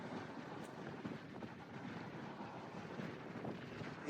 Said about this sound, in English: there is a fishing boat coming by